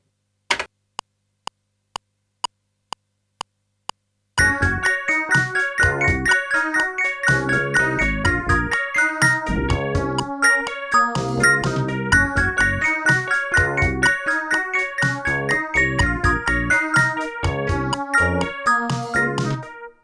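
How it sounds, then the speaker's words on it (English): A bell tone sequenced on a Yamaha QX1 hardware sequencer: several sparse, evenly spaced single dings, then a dense, continuous run of bright, ringing bell notes in a fast pattern, loud and close. "And that will be the sound. A different bell."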